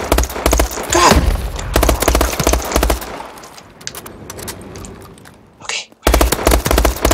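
Gunfire from a burst-fire weapon in Call of Duty: Advanced Warfare multiplayer comes in loud, rapid, tightly grouped volleys, repeated several times, with a brief lull near the end before the shooting resumes. A player's voice is briefly heard over it.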